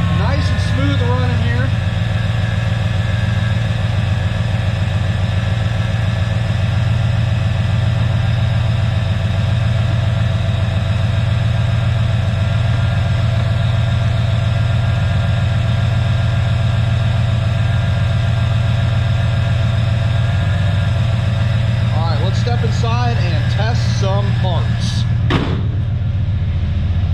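1995 Chevy Impala SS with a 5.7L LT1 V8 idles steadily and smoothly for a long stretch, a loud, even, low rumble up close. A voice speaks briefly near the end.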